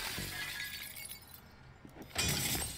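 Glass shatters in a video game: a loud crash of breaking panes, a quieter stretch, then a second bright burst of shards, heard alone with no talking.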